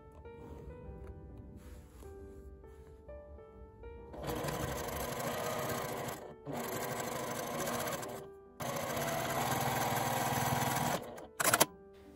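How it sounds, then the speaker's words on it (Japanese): A sewing machine stitches across a coin-through wallet bag in three loud bursts of rapid whirring, separated by short pauses, with soft background music early on and no talk. "コインが流れないように下から4センチのところも横に縫っておきます。"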